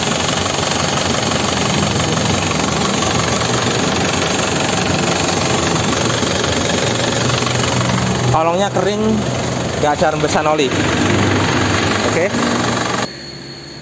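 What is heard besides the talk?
Isuzu Panther Grand Touring 2009 engine running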